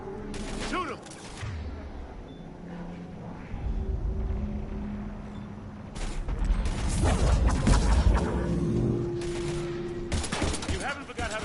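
Gunfire from the video game Mass Effect 3 rattles in loud bursts over battle noise, with heavy volleys and machine-gun fire starting, stopping and returning, while voices speak over the fighting.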